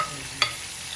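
Ripe bitter gourd is sautéed with tomato in a pan, with a soft continuous sizzle and one quick scrape or stir click about halfway through.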